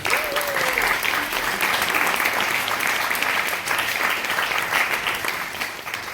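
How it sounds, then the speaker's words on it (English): Sustained audience applause fills a film premiere Q&A, a dense, steady wash of many hands clapping at close range for about six seconds with no pause. "Please give yourselves a round of applause, I beg you please."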